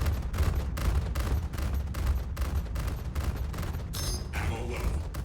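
Spaceship weapons in the Star Citizen game fire at a target in rapid, loud bursts of gunfire, volley after volley in a fast rhythmic fusillade with booming low rumble throughout.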